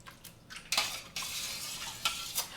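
A spoon scrapes and clinks around a pot of gluten-free chicken soup, a close, steady stirring with sharper metal knocks against the pot's sides and a soft liquid swish underneath.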